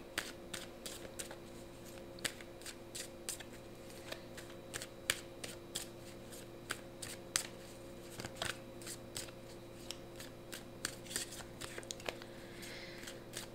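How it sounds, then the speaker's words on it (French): Tarot cards are shuffled by hand in a quiet room, a long run of brisk riffling snaps and soft clicks in irregular bursts, close and alone. "j'ai besoin de brasser"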